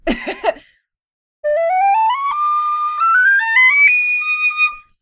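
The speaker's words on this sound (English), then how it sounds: "you can play this whistle for really long periods of time" A Carbony Celtic Winds carbon fiber whistle plays a clear, steady rising scale of pure tones, alone and close, following a brief burst of breathy noise at the start.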